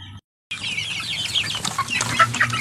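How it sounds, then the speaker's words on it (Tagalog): Native Philippine chickens cluck loudly and continuously up close, a busy flock with overlapping calls after a brief silence at the start. "kainin natin yung ating mga alagang manok"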